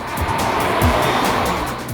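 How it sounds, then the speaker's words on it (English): A Skoda Octavia's 2-litre diesel engine accelerates with a gruff, continuous drone that rises in pitch as speed builds, heard loud and alone. "It's also not the most refined motor and tends to sound gruff"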